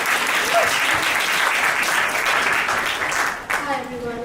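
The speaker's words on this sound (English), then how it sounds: "Loud round of applause." An audience at a Muslim artist collective iftar gathering breaks into loud sustained clapping and cheering that tapers off at the end as a voice begins to speak.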